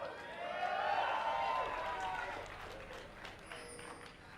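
Crowd at an esports tournament, the IPL4 event in Las Vegas, cheering and shouting in a big hall, loud and sustained, then fading to a softer roar with a few whistles near the end.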